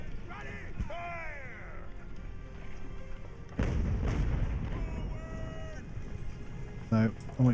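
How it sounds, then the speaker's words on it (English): Warship cannons boom in the naval video game Ultimate Admiral: Age of Sail, with scattered heavy thuds and one big swell of fire midway, mixed with game sound effects while someone talks throughout. "Let's keep that cannon fire going in."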